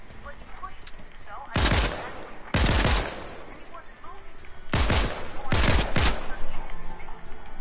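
Rapid bursts of automatic gunfire in a video game: four loud, close volleys coming in two pairs, each a quick stuttering rattle, separated by short quieter gaps.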